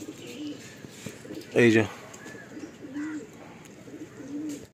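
Madrasi pigeons give soft, low cooing calls in a few repeated phrases from close by, while a brief voice cuts in partway through.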